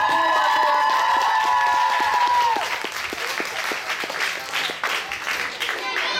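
An audience applauds performers at a creative contest in a hall. The clapping starts under the fading final notes of music, then carries on alone, dense and steady, with some cheering.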